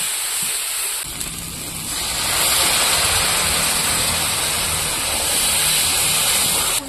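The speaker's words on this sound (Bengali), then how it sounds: "মশলাটা ভালো করে কষিয়ে নেওয়ার জন্য একটু জল দিয়ে দেব।" Water is poured into a pan of ground cumin and coriander masala, giving a loud, steady rushing hiss that swells after the first second and stays constant up close, with no talking.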